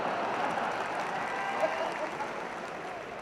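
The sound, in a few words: audience applause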